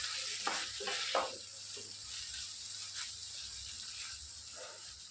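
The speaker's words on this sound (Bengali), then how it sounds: "আমি আবার কিছু সময় সবগুলো উপকরণকে একটু ভেজে নেব।" Maggi noodles fry in a pan with soy sauce and corn, giving a soft, steady sizzle with a few scraping stirs near the start, fairly quiet and without talk.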